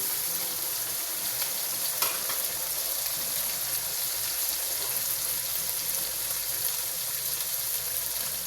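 Dry whole spices, bay leaves, cinnamon and cardamom, fry in hot oil in a pot for chickpea pulao, a steady close hiss and sizzle that continues without a break.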